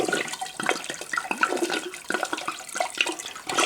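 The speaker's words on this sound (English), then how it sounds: "I take a bottle of white wine, and my wife likes Moscato, so I put that whole bottle in." A whole bottle of Moscato white wine glugs and splashes into a turkey brine, a steady gurgling pour with uneven bubbly surges, close and moderately quiet, with no voices.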